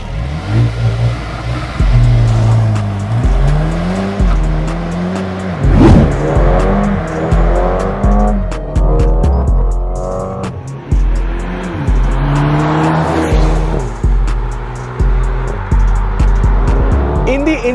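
A Mercedes-AMG GLA35 with the M139 turbocharged four-cylinder launches hard from a standstill, heard loudly from inside as the engine note repeatedly climbs and drops through a run of quick gear changes, with a brief chirp near the start.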